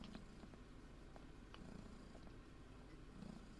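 A pet cat purrs softly and continuously close by, a faint low rumbling pulse with a few small rustles and no speech.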